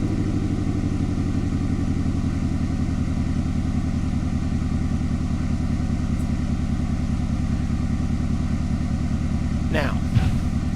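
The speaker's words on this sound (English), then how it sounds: "I'm going to start by putting it into 3rd gear and cracking up the throttle a little bit and turning it to the right" A video game vehicle in third gear with the throttle cracked up a little gives a steady, droning engine hum that holds constant and close, with speech over it.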